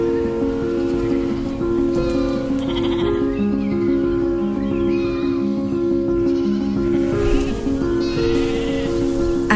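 Pedigree Galway sheep, a native Irish breed, bleating in a flock, several overlapping drawn-out calls close by with soft rustling behind them.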